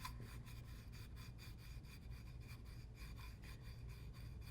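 A pastel stick turning in an H.G. Art Concepts pastel shaper, a steady close gritty rasping and rubbing with a faint repeating scrape rhythm throughout, no voices.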